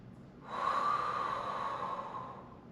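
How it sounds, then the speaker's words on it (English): One deep, audible breath during a core workout, a drawn-out airy exhale that swells and then slowly fades, close to the mic with no talk. "2 more big breaths"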